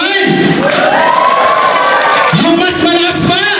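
Wedding guests cheer loudly, shouting and whooping together as a crowd in a dense, continuous roar with rising voices and some clapping.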